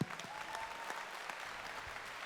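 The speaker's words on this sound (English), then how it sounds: "big round of applause for everyone," At the SCMA Awards, an audience in a hall applauds volunteers and staff, a steady, distant wash of many hands clapping at low level, with a few louder claps standing out and a faint tone in the background.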